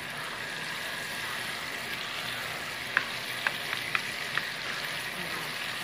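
Onions fry in melted butter in a pan, giving a constant even sizzle up close, with a handful of small pops and crackles standing out near the middle.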